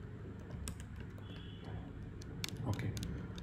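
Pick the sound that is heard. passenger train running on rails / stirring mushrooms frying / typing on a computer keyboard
typing on a computer keyboard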